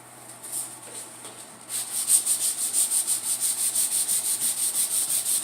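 A repaired car bumper is sanded with 320 grit sandpaper, a close scratchy rubbing that begins lightly, then settles into steady rhythmic back-and-forth strokes with no talk.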